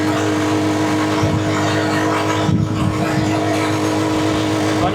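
A vehicle loaded with eight containers of water driving at high speed, its engine humming steadily close by with a rushing, whooshing swell midway.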